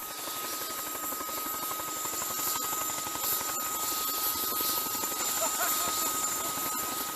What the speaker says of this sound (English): The military deployed two CH-46 Chinook to haul gear to the rig.